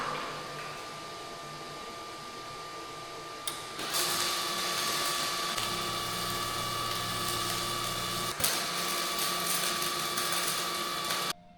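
Magnetic drill running on a steel gantry walkway fabrication job, a steady loud mechanical whine and hum that jumps louder as the bit engages, with brief load changes, close and continuous without talk.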